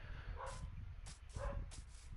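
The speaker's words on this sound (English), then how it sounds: "I hear my dogs." Dogs in the video game Minecraft bark in a few short, separate yaps spaced across a couple of seconds, fairly faint over a low background hum.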